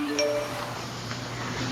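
A phone's text message alert sounds as a short bright ding with a ringing tail, followed by softer tonal chimes over a steady background hum.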